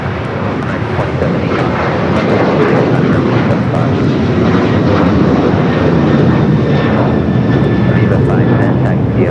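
A Boeing 777 airliner on short final into LAX, its engines roaring loud and steady throughout, a broad sustained rumble close by with a faint whine riding on top.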